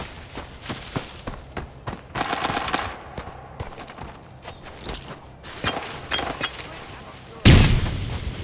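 Repeated gunshots in the video game Arena Breakout crack in bursts from mid-distance, irregular and punchy, ending in a loud sustained blast of noise.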